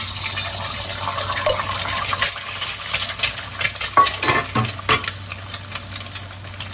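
An egg fries in a small amount of oil in a pan, giving a soft, uneven crackle mixed with liquid bubbling and occasional scraping, close by, with no voices.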